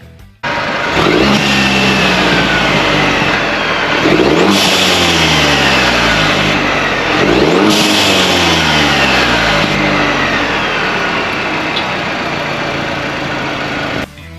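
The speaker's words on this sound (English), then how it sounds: "what it sounds like when you rev it up and let off the pedal. It'll let all the air out the atmosphere" A 2022 GMC Sierra 1500 Elevation 2.7L turbo revs hard three times, each rise followed by a sharp hiss as the blow-off valve vents air, then settles into a loud, steady high rev.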